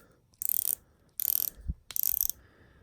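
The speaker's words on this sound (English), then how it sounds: "It's got a coined edge bezel going on over here. I believe 120 clicks." A Steinhart Ocean One dive watch's coin-edge bezel is rotated in three short bursts of rapid, crisp ratcheting clicks, heard close and quiet with brief pauses between turns.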